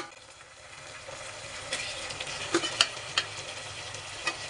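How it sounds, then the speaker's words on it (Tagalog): Softened chicken feet sauté with onion, garlic and butter in oil, giving a steady close sizzle dotted with small pops and a few light scrapes of a stirring utensil. "Ginigisa ko na yung sibuyas at bawang sa mantika."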